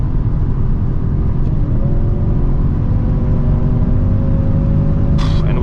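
A 571hp Audi S8 at night holds a loud, steady engine drone and road roar at very high speed, with the pitch creeping slightly upward under constant wind and tyre noise inside the cabin.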